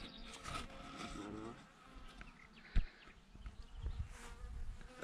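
A low, wavering bee buzz hums through a village beekeeping scene, mixed with faint background voices and scattered rustling.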